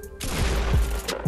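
A shotgun blast in Fortnite Season 6 during a build fight, a loud broadband burst with several sharp percussive hits over about a second of busy gunfire-like noise.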